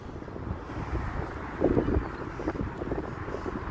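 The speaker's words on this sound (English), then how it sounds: "We got some wind. It's going to be windy. It's going to be hard to hear me." Gusty wind buffets the microphone on the Lake Michigan lakefront in Chicago, a continuous rough rumbling roar with stronger gusts midway, close and loud, with no talking.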